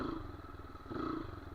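A dirt bike engine gives two short throttle blips while a rider lifts into a wheelie, a brief rough motor buzz that swells, dips, then swells again, close by and fairly quiet.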